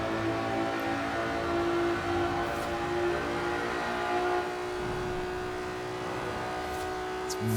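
A JDM car's engine revs steadily high toward 8,000 RPM in Forza Horizon 4, a sustained droning tone heard close and continuous with no talk over it.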